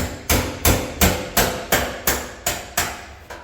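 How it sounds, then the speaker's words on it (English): Hammer blows on a stubborn part in a home garage, nine sharp, evenly spaced strikes about a third of a second apart, each ringing briefly before the next, loud and close with no talking. "Hammer"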